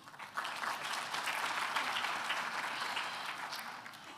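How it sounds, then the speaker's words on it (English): Audience applause at a university graduation ceremony in human sciences, a broad sustained wash of many hands that swells in after a brief pause and holds steadily, heard somewhat distant in a large hall. "Let's give them a round of applause."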